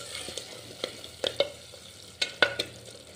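Prawn biryani curry being stirred in a pot, a few soft scrapes and clacks of the spoon spaced irregularly over a faint, quiet background.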